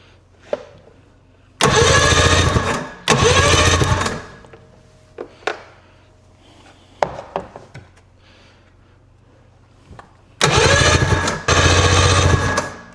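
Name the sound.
old snowmobile engine cranking on electric start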